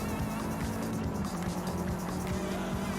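A turbocharged car engine in the Forza Horizon 5 racing game drones steadily and loudly, with a continuous hum broken by repeated low thumps throughout, and no talking.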